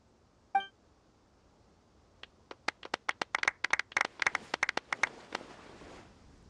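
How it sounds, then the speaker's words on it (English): Scattered claps in the video game Genshin Impact build into a short burst of applause, sharp and bright like many hands clapping, then thin out after a few seconds. "Let's give our champion Kaveh one last big round of applause."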